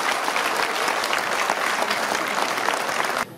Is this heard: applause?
yes